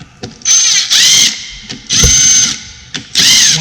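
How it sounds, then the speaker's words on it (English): A power driver starting screws while mounting a DTV Shredder unit, three loud, close whirring bursts of about half a second each, separated by brief clicks and clunks. "a good practice is always just to start the screws"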